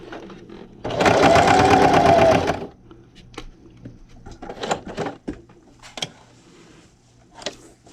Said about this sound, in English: raise my presser foot and spin, and then just keep sewing